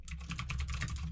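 Rapid typing on a computer keyboard while writing code, with steady close clicks of keys over a low hum.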